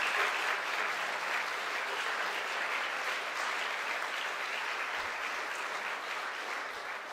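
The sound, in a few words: audience applause for Joe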